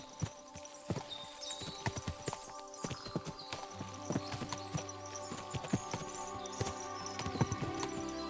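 Horses' hooves clip-clopping in uneven, overlapping beats at Nebakov Fortress in Kingdom Come: Deliverance II, several horses moving nearby over a steady low hum, with occasional faint whinnies and no talk.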